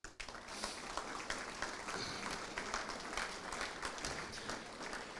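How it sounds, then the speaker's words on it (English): A room full of people at a parish government gathering breaks into steady, dense applause that fills the whole stretch at an even level, with no voices standing out above the clapping. "a round of applause for everyone in here"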